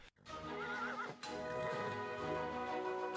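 An Icelandic horse gives a loud, clear neigh and whinny up close, its wavering call rising and falling over about three seconds with no voices.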